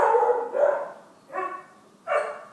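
Barking comes from a dog in another room, with several muffled barks in uneven bursts, fairly loud and heard without any voices over them.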